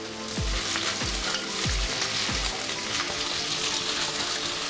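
Fifteen dried red chillies fry in hot oil with a loud, continuous crackling sizzle close by, while low thuds from a spoon knocking the pan repeat about four times.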